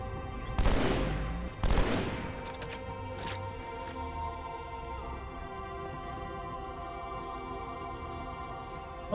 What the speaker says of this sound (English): the enemies keep firing on your last known position if you're not spotted a different time